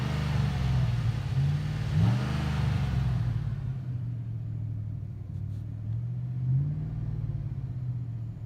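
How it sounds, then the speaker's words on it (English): Exhaust of a 2007 Chevy Silverado 1500 rumbling loudly and deeply, with brief revs rising and falling over a steady low idle, heard up close. "we're going to go ahead and listen to the exhaust"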